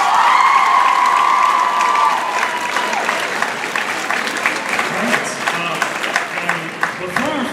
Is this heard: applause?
yes